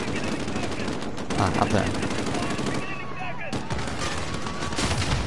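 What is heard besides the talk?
gunfire in Call of Duty Modern Warfare video game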